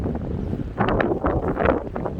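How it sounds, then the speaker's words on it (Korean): Gusty outdoor wind blows beside an old hairy willow, a protected natural monument tree, buffeting the microphone in loud, uneven rushing bursts with no one speaking. "아마 바람 소리가 상당하게 요란하게 지금 들릴 것 같습니다."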